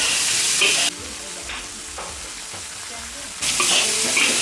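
Eel being stir-fried in a wok after rice wine is added, a loud close sizzle that dips midway as the pan is tossed and stirred, then surges again, with no voices.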